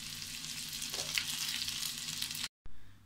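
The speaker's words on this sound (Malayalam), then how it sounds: "ഇനി ഇതിലേക്ക് കറിവേപ്പില, ചെറിയ ഉള്ളിയും ചേർത്ത് വഴറ്റാം" Curry leaves and shallots sauté in hot oil in a pan for a prawn and raw mango curry, making a steady, fairly faint sizzle that cuts out briefly near the end; no speech.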